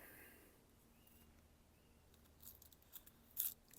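A freshly sharpened knife cuts through cigarette paper, leaving faint, brief papery slicing rasps that grow sharper toward the end against a quiet background.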